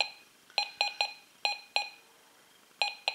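A metal detector set to check discrimination stability with a 27 cm coil gives a short beep, then rhythmic clusters of sharp, identical electronic beeps in irregular groups over a quiet background as it passes a ferrous target, a large pair of pliers.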